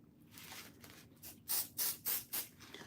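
Short aerosol spray bursts onto a jar mould: soft hissing at first, then four louder, evenly spaced spritzes near the end, close and alone.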